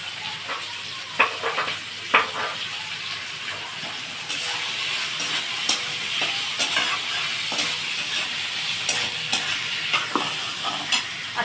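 Green chillies sizzle steadily in a hot pan for coconut chutney, a continuous close frying hiss broken by several sharp taps of the spatula against the pan, with no voices.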